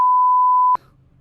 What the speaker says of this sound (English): Do you hear that beep that you see on TV whenever someone cusses or swears?